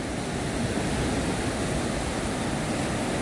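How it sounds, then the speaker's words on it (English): Gulf waves at Anna Maria Island beach at sunset make a steady, broad hiss of surf washing ashore, constant and moderately loud with no distinct breaks and no voices. "Sound of good waves is wonderful."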